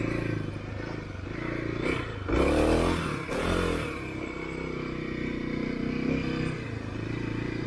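A Kawasaki KLX250 dual-sport motorcycle runs in first gear with a steady engine drone, then revs up loudly for about a second before settling back to a constant hum.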